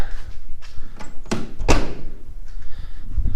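On a 1992 Chevrolet Silverado pickup, a door thumps shut in two solid knocks about half a second apart, close by over a steady outdoor rumble.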